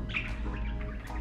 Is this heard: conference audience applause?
no